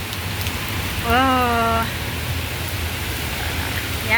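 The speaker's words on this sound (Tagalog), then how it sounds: "ang lakas ng ulan" Heavy rain pours in a steady loud hiss across the whole stretch, with a short vocal exclamation briefly heard over it.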